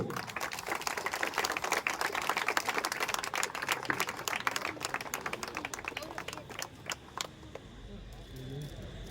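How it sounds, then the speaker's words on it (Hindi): Audience applause at a welcome event in Raj Township, a dense run of crisp hand claps that thins and fades toward the end, with voices talking beneath. "जोरदार तालियां होनी चाहिए"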